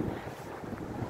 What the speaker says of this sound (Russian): Ух, ветер в лицо, отмерзает лицо.